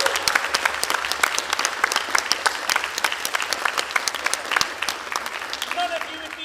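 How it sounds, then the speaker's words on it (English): A tournament crowd at a lightsaber sport academy event claps for its social media managers, a fairly loud, steady burst of applause with crisp individual hand claps and a brief voice near the end. "so a massive round of applause for them."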